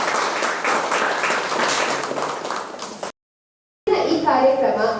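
Applause from a crowd at a roadblock protest against land acquisition, a dense, loud clatter of many hands that fades, breaks off into silence, then gives way to a voice speaking.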